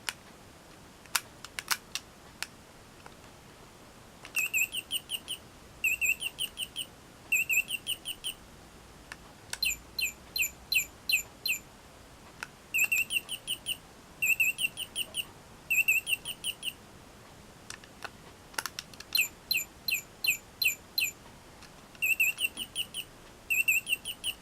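McDonald's Robo-Chi bird toy from 2001 playing electronic sound effects: bursts of high, rapid synthetic chirps repeating in short groups with brief pauses, alongside a few sharp clicks, fairly quiet.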